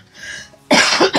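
Someone nearby coughs, a brief, loud burst of harsh coughs after a quieter moment of throat clearing.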